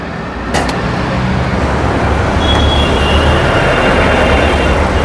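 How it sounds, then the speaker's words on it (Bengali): The engine of a used Toyota Noah compact van with a sunroof idles steadily with a smooth, even hum and no knocking. A faint high tone rides on top of it. "গাড়িটা স্টার্ট আছে, জি একদম স্মুথ সাউন্ড, কোনো নকিং বা শার্টিং নাই"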